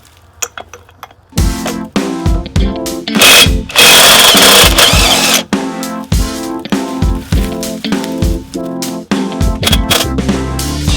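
Pneumatic impact wrench zipping wheel lug nuts off a vehicle during a brake job, a series of loud, sharp hammering bursts separated by brief pauses, close to the microphone with no talk.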